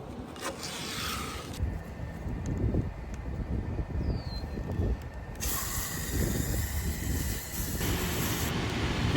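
Frost King foaming condenser coil cleaner sprays and hisses onto an RV air conditioner's condenser coil, a steady, fairly loud broadband hiss that continues throughout with slight shifts in intensity.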